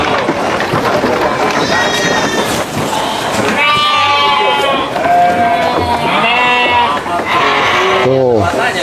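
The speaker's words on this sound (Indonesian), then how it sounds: "itu dombanya Bapak tuh yang khas Banjarnegara, domba batur" Batur sheep, a breed from Banjarnegara with a full woolly fleece, bleat several times at a livestock farm in West Java, with close, overlapping cries under people talking.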